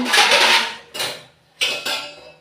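Metal lid being put on a pot of home-style vegetable curry, making three loud, close metallic clanks, the first a longer rattle and the last two quick hits with ringing tails.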